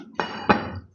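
A plate set down on a hard surface gives two sharp clinks about a third of a second apart, close and clear against a quiet room.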